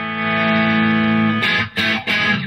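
A clean electric guitar tone comes through a BOSS IR-2 compact amp modeler: a sustained, ringing chord that holds steady, followed by a few quick strummed strokes with brief gaps between them.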